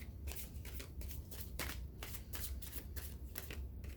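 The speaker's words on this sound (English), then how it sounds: "I'm losing my cards. They're all flipping around and flippity floppity." Tarot cards being shuffled by hand during a full moon reading, a steady run of close, papery riffles and soft flutters that repeat without a break.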